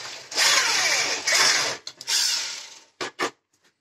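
A power drill bores into tool steel in loud close bursts: two long whining runs, a shorter third, then quick stop-start pulses and faint clicks as the trigger is released.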